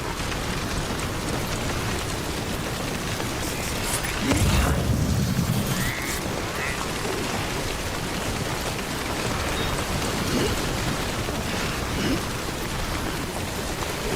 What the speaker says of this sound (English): Oh, rain's starting.